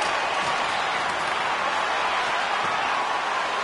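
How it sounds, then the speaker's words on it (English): Hockey arena crowd on its feet applauding and cheering the home team after a hard-fought game, a steady dense wash of clapping and crowd noise filling the whole stretch. "the crowd's on their feet saluting the team after a hard-fought effort this evening"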